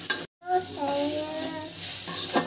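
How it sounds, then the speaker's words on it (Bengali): Vegetables for noodles sizzle in a hot pan as a utensil stirs and scrapes through them, a steady close frying hiss broken by a brief silent gap. "আর কিছুটা ভাজা হলেই এই ভেজিটেবল ভালোভাবে রান্না করা হয়ে যাবে"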